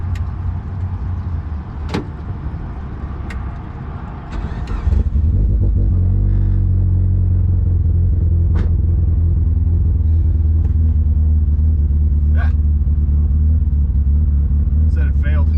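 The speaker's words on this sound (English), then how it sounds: "All you gotta do is start your car, and then it's gonna do an alternator test right after you start your car." A Mitsubishi Evo with a big turbo on a stock block cranks and fires up during a battery and alternator test, a short starter whir followed by a loud, steady low idle rumble that runs on to the end.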